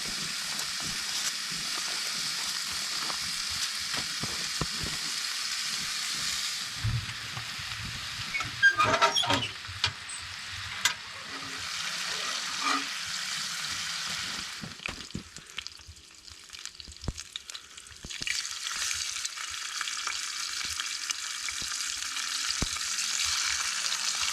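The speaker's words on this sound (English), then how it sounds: "I'm going to start this with a little bit of bacon." Bacon sizzles in a pan at an Alaskan backcountry camp, a close, steady hiss that rises and falls over time, with occasional pops, clinks and creaks from handling.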